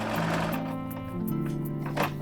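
A sewing machine stitches around the edge of a handmade winter witch hat, a steady close hum with a faint mechanical whir running without pause throughout.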